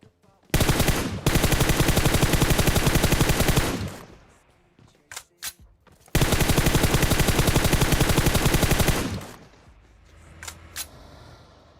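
Two long bursts of rapid automatic gunfire in the battle-royale shooter PUBG, loud and close, each lasting about three seconds, separated by a few sharp single shots and a quieter lull.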